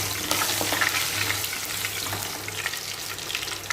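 Chopped onion sizzles in hot oil with dried red chilli and whole cumin for a chicken kosha, a continuous close crackling fry with light stirring scrapes on top.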